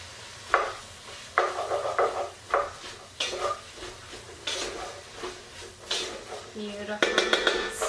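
Tomato paste frying and being stirred in a pot, with intermittent scraping strokes and light sizzle, clanks of the utensil against metal, and a voice talking throughout.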